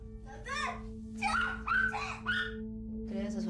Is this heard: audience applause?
no